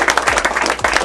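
Loud, close applause at a fitness center ribbon cutting, a dense burst of many hands clapping quickly that carries straight through a very short moment.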